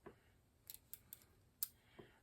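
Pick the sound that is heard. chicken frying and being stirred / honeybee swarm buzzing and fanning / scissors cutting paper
scissors cutting paper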